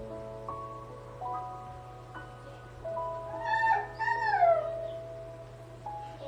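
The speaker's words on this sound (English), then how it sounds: "Dorian is a German Shepherd Black Lab mix, and he's so over dramatic." A German Shepherd Black Lab mix lets out a few drawn-out, wavering howls at moderate distance, rising and falling over a quiet background hum.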